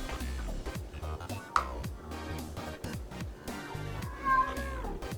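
A pet cat meowing repeatedly for attention indoors, a couple of insistent meows heard over steady background music.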